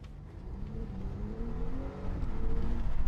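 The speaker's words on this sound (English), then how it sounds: "We have some pops and bangs, we have very beautiful shifts" A 2025 Audi SQ5 V6 engine pulls and shifts while driving, its moderate hum climbing in pitch with a couple of gear changes and rising toward the end, with no voices.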